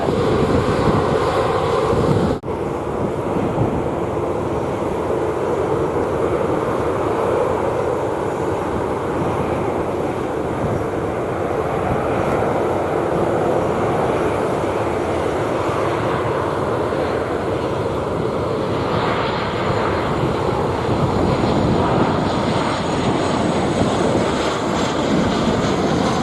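A United airliner lands on runway 07 at Montego Bay airport in Jamaica, heard as a loud, continuous roar of engines and rushing wind that holds steady throughout, with no talking.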